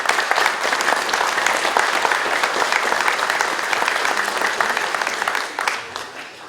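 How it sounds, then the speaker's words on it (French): A crowd at a New Year's wishes ceremony in Vailly-sur-Aisne applauds local companies: dense, loud, continuous clapping that holds steady for about six seconds, then thins slightly at the end, with no speech over it. "je pense qu'on peut les applaudir bien fort parce que c'est des entreprises du territoire."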